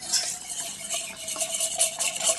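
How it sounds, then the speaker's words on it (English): A utensil stirs soy milk into a custard paste in a bowl, a soft, steady scraping and swishing close by, quiet and continuous with no talking. "give that a bit of a stir until it's even before adding the last 1 3/4 cups of soy"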